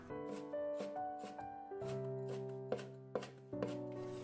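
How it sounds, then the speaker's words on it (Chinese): A knife chopping a bunch of spring onions into small pieces on a board, several crisp taps spaced about half a second apart, partly masked by louder tonal background music. "再准备1把小葱，给它切成葱花。"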